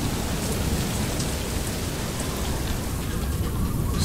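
Heavy thunderstorm rain in the post-apocalyptic game Far: Lone Sails, a loud, steady roar of downpour with a deep rumbling undertone that holds constant for several seconds, with no voices.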